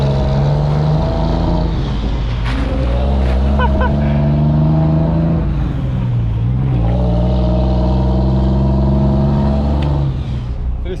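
A large freight truck on an Andean mountain road toward Lima rumbles loud and close, its engine note dropping and shifting as it slows and comes to a stop, with steady low drone throughout.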